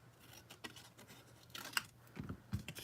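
Scissors cutting a small chunk of white paper for a handmade bookfold card, a few faint, quiet snips and crisp rustles close by, with no talking.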